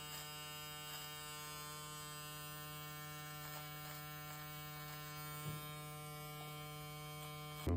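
Electric hair clipper with a fully closed guard trimming a fade at the bottom of the hair, a steady close buzzing hum running continuously with faint brief touches and a small bump near the end.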